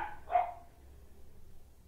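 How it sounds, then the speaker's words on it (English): A single short dog bark rings out near the start, fairly close but not loud, in an outdoor setting with light ambient noise and no talking. "That's my dog. Don't worry."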